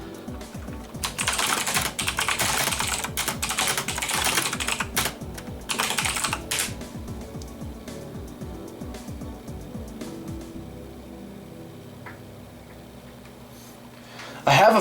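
Close computer-keyboard typing in quick rattling runs that slow and thin out into sparse clicks and then fade, with a faint background hum.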